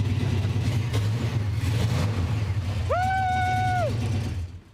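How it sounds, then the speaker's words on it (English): A hot rod engine in a garage fires and rumbles at a deep, loud idle with rough revving throbs, then a brief rising whoop of a voice cuts across near the end. "It's gonna fire right up."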